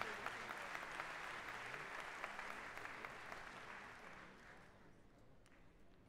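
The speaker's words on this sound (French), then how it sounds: "n'hésitez pas à vous applaudir, ça va vous échauffer en plus" Audience at a mayors' assembly on disability applauding: sustained, even crowd clapping in a large hall, moderately distant, gradually thinning and fading toward the end.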